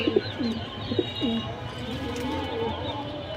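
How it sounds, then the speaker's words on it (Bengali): A breeding pair of homer pigeons coos close by in repeated low, throaty bursts, strongest at the start, over a steady background hum and faint chirps. "এটা একজোড়া হ্যামার কবুতর"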